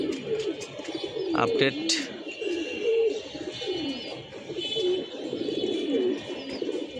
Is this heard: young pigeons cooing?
yes